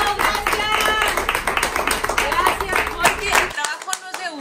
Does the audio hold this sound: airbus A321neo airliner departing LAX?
no